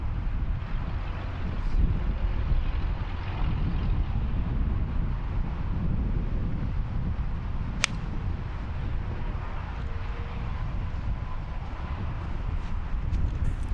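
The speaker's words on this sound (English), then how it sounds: "the wind was gusting" Wind gusts across an open par 3 golf course, a steady low rushing roar buffeting the microphone for the whole stretch, with one brief sharp click midway and no speech.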